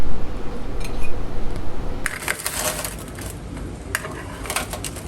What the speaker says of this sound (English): So you want to just cut it like a pie.